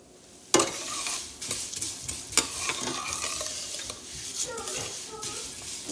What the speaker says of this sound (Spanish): Ya estoy cocinando los fideos, miren. Estoy friéndolos con un poco de aceite.